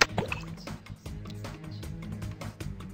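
Watery drips, plops and sloshing splashes from a water attack in the video game Bionicle Voya Nui Online, a scattered run of soft liquid hits at low level with no talking.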